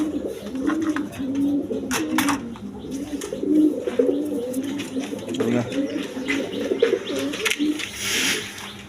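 Gorra pigeons coo continuously at a pigeon farm, a dense layer of overlapping low throaty calls close by, with a few sharp clatters and a person speaking faintly in the background.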